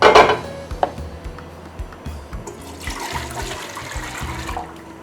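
Water pours into a pot of assorted rice on the stove, a splashing gush that starts loud, then settles into a steadier rushing trickle with a few clinks of the pot.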